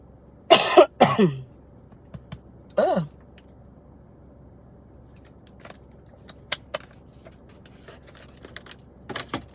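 Three sharp coughs close together near the start, then quiet room tone with a few faint small clicks and rustles; no one speaks.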